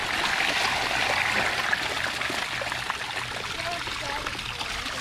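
Water drains from a leaking kayak in a steady trickling pour, continuous and close, with some talk faintly in the background.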